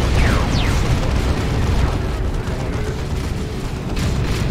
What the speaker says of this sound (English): We got a Manticore strike coming on in